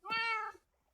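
A single cat meow from a Minecraft-style survival game, clear and fairly loud, with a rising then falling pitch, lasting about half a second, followed by silence.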